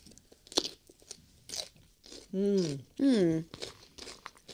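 Crunchy food being bitten and chewed on a French cooking show, a few sharp close crunches spaced through the clip, with people talking around them.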